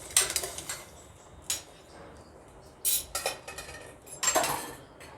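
Spoon stirring a hot chocolate mixture in a pot after a pinch of salt goes in, a few quick bright clinks and scrapes in short bursts, close and fairly soft, with no talking.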